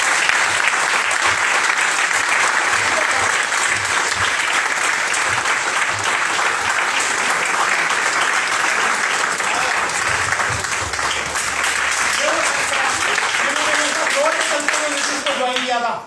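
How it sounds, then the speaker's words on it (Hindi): Loud, sustained audience applause fills a business meeting hall, dense clapping holding strong for many seconds, with a voice rising over it near the end. "एक बार जोरदार तालियां।"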